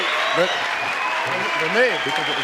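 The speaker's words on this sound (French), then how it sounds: "sous les applaudissements, bien évidemment, du public" Studio audience applauds on a French television variety show, a steady wash of clapping with voices talking over it throughout.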